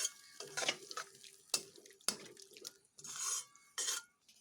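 Ridge gourd mixture stirred with a little water in a pan: faint, intermittent spoon scrapes and clinks against metal, with soft wet swishes between strokes.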